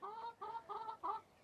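Hens clucking at an allotment, back in their coop: four short, evenly spaced clucks in quick succession, close and clear with no voices.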